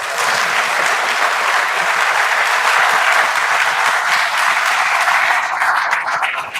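Steady, dense applause from an audience at a university launch ceremony, loud and continuous throughout with no talk over it.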